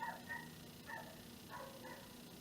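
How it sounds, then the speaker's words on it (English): A dog barks and yips indoors in a few short bursts, faint and somewhat distant, with quiet room tone between the barks. "My dog is barking."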